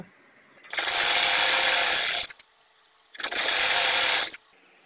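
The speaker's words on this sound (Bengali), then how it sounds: "এবার আমি কাপড়টা উল্টিয়ে এই সেলাই বরাবর একটা চাপ সেলাই দিয়ে নিব।" A sewing machine runs topstitching along a seam of a toddler's pant, in two steady whirring bursts of about one and a half seconds each, separated by a brief pause, close and fairly loud with no talking.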